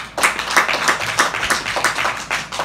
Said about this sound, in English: Ladies and gentlemen, let's give them a hand of applause.